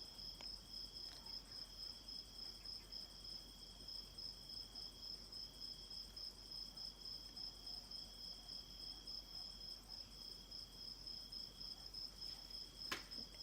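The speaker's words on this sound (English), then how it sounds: "I hope you are enjoying this cricket concert." Crickets chirp at night in a steady, continuous chorus, thin and high-pitched, heard alone with no voices and a faint click near the end.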